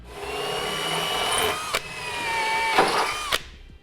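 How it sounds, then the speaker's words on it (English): A power drill fitted with a smaller bit cuts pilot holes for a base plate kit on a 2015 GMC Terrain, making a steady whirring whine that rises and dips, broken by two short sharp clicks before stopping. "Then we can take a smaller bit and drill our pilot holes."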